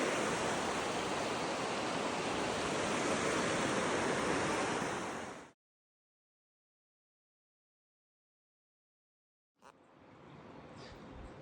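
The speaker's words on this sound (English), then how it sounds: "Nothing like listening to the river come through here." A river rushes steadily along an old abandoned railway trail in Japan, a broad continuous roar that cuts out abruptly midway, leaving silence before the flowing water returns more faintly.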